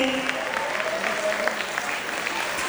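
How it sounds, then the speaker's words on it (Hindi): Sustained applause from an audience at a school annual function for a student on stage, even and continuous clapping with a faint crowd murmur underneath. "जोरदार तालियां युवान के लिए"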